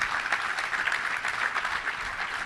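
Applause from a luncheon audience at a Little Rock touchdown club meeting, a dense, steady wash of many hands clapping at once that holds level throughout without any voices.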